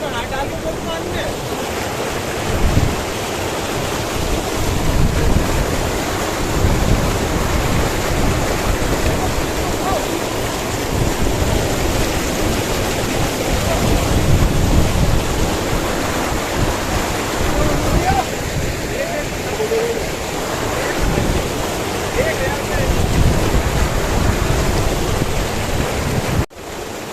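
River water rushes loudly and continuously beside the Himalayan trail from Gangotri to Gomukh, a dense roar mixed with wind buffeting the microphone, with faint voices underneath for almost half a minute.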